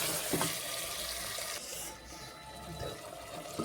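Tomatoes going into a pan of frying potatoes set off a steady, close sizzle, with a few louder bursts of spatter and stirring over the continuous hiss.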